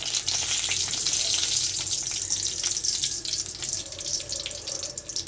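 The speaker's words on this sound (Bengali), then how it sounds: "তেজপাতা আর শুকনো মরিচ ফোড়ন দেবো" Bay leaves and dried red chillies temper in hot oil, making a loud, dense, continuous hiss and crackle that stays even throughout with no talking.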